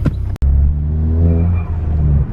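A Ford Fiesta ST engine with a Turbosmart Kompact blow-off valve revs up close, its rising drone climbing and holding, after a sharp brief burst near the start from the blow-off valve release.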